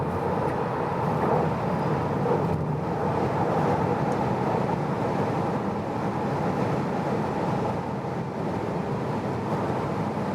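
Inside a 2020 Tesla Model 3 Long Range accelerating at high speed on a German motorway, a loud, steady roar of wind and road noise fills the cabin continuously, with no talking.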